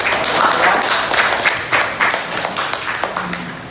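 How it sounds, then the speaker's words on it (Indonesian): Classroom applause from a group of students, a dense burst of clapping that carries on steadily for a few seconds and then gradually thins out. "Oke, terima kasih tepuk tangan."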